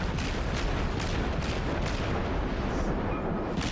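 Heavy naval gunfire from cruisers in World of Warships, a continuous loud rumble of overlapping cannon booms and salvos with rhythmic heavier blasts throughout.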